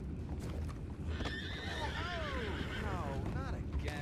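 A horse whinnies with a long, wavering neigh in the Red Dead Redemption 2 video game, fairly faint and set against a steady low ambient rumble, with a few soft hoof sounds nearby.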